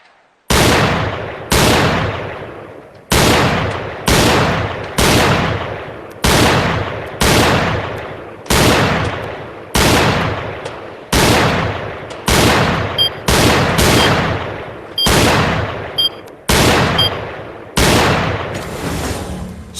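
Gunfire in a VR shooting-range video game: about fourteen loud, sharp shots fire in an even rhythm, each trailing off briefly before the next.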